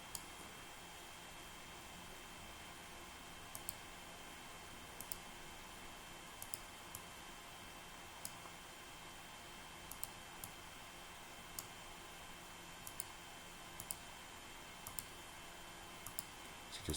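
A computer mouse clicks at irregular intervals, soft and close, while trails are traced on a map on screen, over a steady hiss of background noise with no talking.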